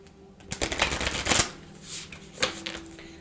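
Tarot cards shuffled by hand in a couple of brisk riffling bursts, close and crisp against a quiet background, followed by softer handling of the deck.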